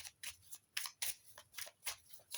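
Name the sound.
shuffling oracle cards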